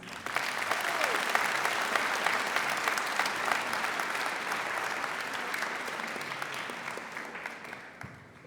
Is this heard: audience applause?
yes